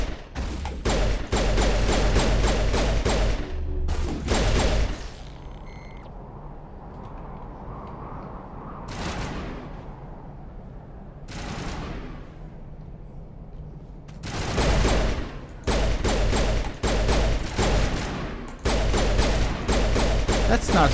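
Bursts of automatic gunfire and rapid shots from the Mass Effect 1 video game, loud and close, in dense clusters at the start and end with a quieter stretch of rumbling combat between.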